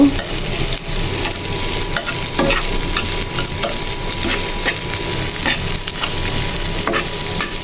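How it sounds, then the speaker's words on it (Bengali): Onion and garlic frying in oil for a dal tempering, a continuous crackling sizzle with occasional stirring scrapes, close and steady throughout. "এখানে ডালের জন্য পেঁয়াজ রসুন ভেজে নিচ্ছি"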